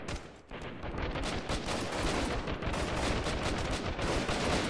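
Sustained automatic gunfire from the guerrilla warfare game Freeman: Guerrilla Warfare, a dense, loud run of rapid shots from several weapons that continues almost without a break.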